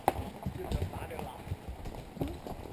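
Horses on a trail ride through Glacier National Park give soft, irregular hoof clops on the trail under steady riders' chatter, with a faint background hum throughout.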